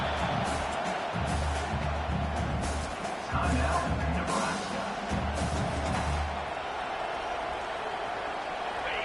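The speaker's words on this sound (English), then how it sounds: "Listen to this crowd just shaking the girders of this place, trying to help their defense." A football stadium crowd roars to rally its defense, a dense sustained din of cheering filling the space, with an announcer talking over it.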